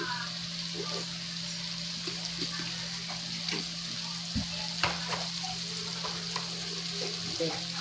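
Garlic sautéing in hot butter in a pan for buttered garlic tilapia, a steady close sizzle with a few stirring clinks and scrapes throughout, without speech.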